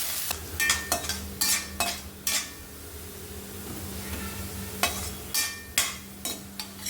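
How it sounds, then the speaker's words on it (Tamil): Garlic frying in a pan for pirandai thuvayal, with a steady sizzle and repeated bursts of spatula scraping and stirring clatter, close and continuous. "பூண்டு சேர்த்து நல்லா ஃப்ரை பண்ணி விட்டுக்கலாம்"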